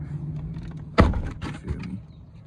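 A Chrysler 300C car door slams shut with one solid thunk, followed by a brief rattle and quieter handling sounds.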